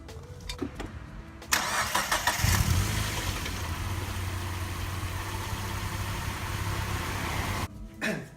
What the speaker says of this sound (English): So let's go ahead and start the car, make sure everything's working right.